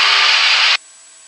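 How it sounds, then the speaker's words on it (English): Cessna 172 flaps retract with a loud, close, steady electric whir inside the cockpit that cuts off abruptly after under a second, leaving a faint hum. "And there it is, flaps going to come up."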